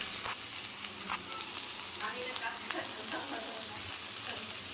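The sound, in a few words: sautéing ivy gourd with turmeric and chili powder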